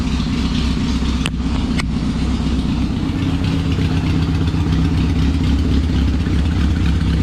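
A 1978 Honda CB750F motorcycle with extended forks runs steadily nearby, its engine holding a continuous low rumble with no spoken voices over it.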